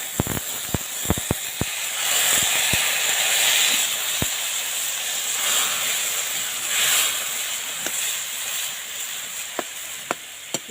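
Water poured into a hot pan of cooking potatoes sets off a loud, sustained steamy hiss that swells and fades, with scattered sharp clicks and taps of utensils throughout.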